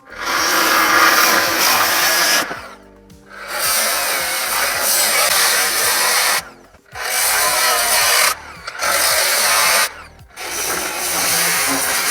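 A loud power tool cuts into wood in several long bursts separated by short pauses, the motor whining and grinding up close.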